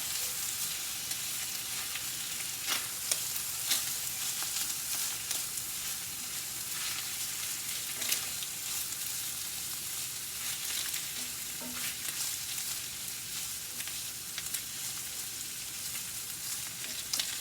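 Ground beef frying with green peppers and onions for homemade spaghetti sauce, a steady soft sizzle crackling in the pan with occasional faint utensil taps, with no talking.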